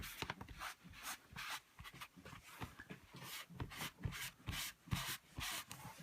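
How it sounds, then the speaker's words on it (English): Rag wiping sawdust off a freshly sanded repair surface, repeated close swishing strokes in an irregular rhythm with no talking. "we're going to clean all that dust off of there that we just made"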